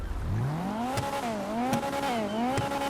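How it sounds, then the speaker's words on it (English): The Monroe car's engine in a video game revs up from low to high and then holds a wavering, buzzy note that rises and falls with the throttle, loud and close, with a few sharp clicks along the way. "apparently the Monroe has the perfect sound"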